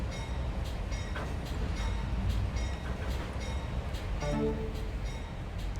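A train slowing to a stop in the railway simulation game Trainz A New Era, a steady rumbling rolling noise with faint rhythmic clicks and a brief tonal squeal near the end.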